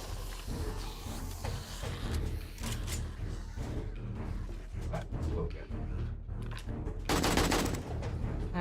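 Gunfire in the video game 7 Days to Die, a run of sharp cracks and bursts at irregular intervals, some in quick rapid-fire clusters, loud and close, with talk between shots.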